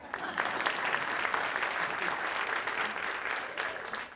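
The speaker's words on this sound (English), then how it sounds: "Hold for applause. Applause." An audience at a Fulton County Schools State of Our Schools address claps in a sustained, even burst of applause filling the hall for several seconds.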